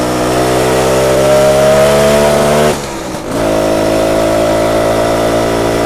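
A rebuilt BSA Bantam 175 motorcycle on a test ride, its small two-stroke engine droning loud and steady up close, dipping briefly as the throttle eases, then picking back up.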